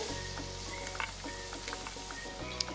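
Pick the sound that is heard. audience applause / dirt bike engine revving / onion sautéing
onion sautéing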